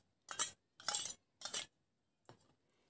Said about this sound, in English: Just here I am stirring it